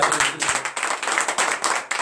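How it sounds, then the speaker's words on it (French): Congregation members clap in acclamation during a morning prayer service in Benin, producing a short, lively burst of hands with uneven rhythm that sounds close and fairly loud. "Donnez encore l'acclamation."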